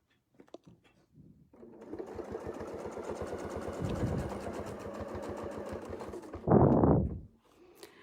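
A sewing machine runs steadily for about five seconds while stitching a continuous quilting motif, its needle hammering in a fast even rhythm close by. A louder whir follows, and a few small clicks come before and after.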